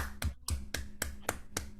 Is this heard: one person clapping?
yes